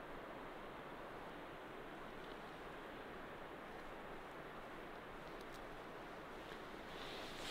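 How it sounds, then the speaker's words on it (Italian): A constant broadband rush of water flowing near a lake, like distant flowing water or a waterfall, steady and fairly quiet with no voices. "Io comunque sento acqua che scorre."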